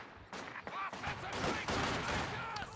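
Rapid MG42 machine-gun bursts and scattered gunfire from a World War II strategy video game battle, dense and continuous, with faint talk underneath.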